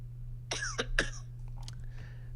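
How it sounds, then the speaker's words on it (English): A man gives a few deliberate, exaggerated coughs with a throat-clearing quality: two or three close, fairly quiet bursts over a low steady hum, with no talking. "Performative cough"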